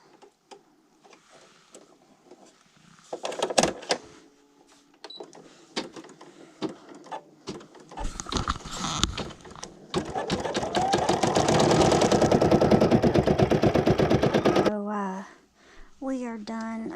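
An embroidery machine stitches a crown design in brownish-gold thread onto a hooded towel, its fast mechanical needle chatter starting and stopping, then running in a loud sustained burst, with a voice talking over parts of it.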